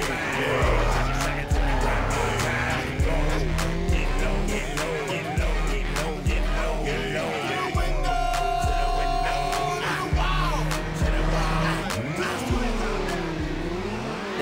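Cars in a drift-racing video game rev and shift through gears in regular surges while tires squeal in long, wavering screeches, loud and continuous under occasional talk.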